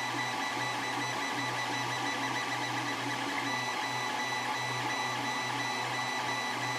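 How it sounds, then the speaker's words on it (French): A 3D printer runs with a steady mechanical whir and a low humming drone, continuous and fairly loud without pauses. "je vais vous apprendre à rendre silencieuse votre imprimante 3D pour passer de ce niveau sonore là"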